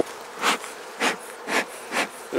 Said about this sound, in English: There's a lot of bees in this hive.